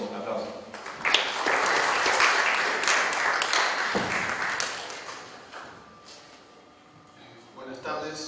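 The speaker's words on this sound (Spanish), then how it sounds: "a quien recibimos con un caluroso aplauso" Audience applause at a judicial conference in a Superior Court of Justice, a warm burst of clapping that swells, holds for several seconds, then fades as a voice begins speaking near the end.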